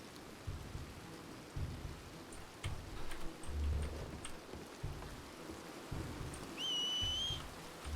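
Rain pours in the RedM Red Dead roleplay game world, a soft, continuous hiss of drops with a low rumble swelling beneath it and a brief high chirp near the end.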